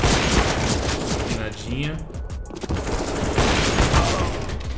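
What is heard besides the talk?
gunfire in a Counter-Strike style shooter video game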